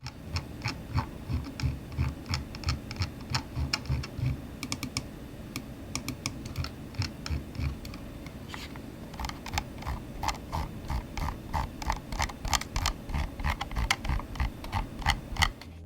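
Scroll wheel of a Razer Viper V2 Pro gaming mouse being clicked, a long run of small, crisp ticks up close, fast and irregular with short pauses, quiet and alone.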